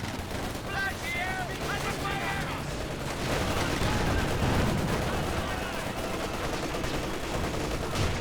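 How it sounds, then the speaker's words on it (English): In a Company of Heroes 2 battle, a Soviet incendiary artillery barrage brings sustained rumbling explosions and crackling gunfire layered into a dense, loud wall of battle noise with shell impacts, and a commentator talks over it. "it's the Soviet incendiary barrage, which may wipe out the Volks"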